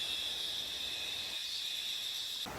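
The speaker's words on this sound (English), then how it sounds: "With the cicadas." Cicadas drone in a subtropical forest in China, a steady, loud, high-pitched buzz that holds constant and then cuts off abruptly near the end.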